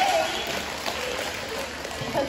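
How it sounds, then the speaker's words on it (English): A school audience at a third-grade awards ceremony applauds for the teachers, a steady wash of clapping from many hands that carries through the whole moment. "they also need a big round of applause."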